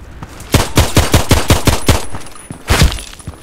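Rapid gunfire in the Contract Wars shooter game, a loud string of about eight evenly spaced shots, a brief pause, then a short second burst of a few rounds, with no voice over it.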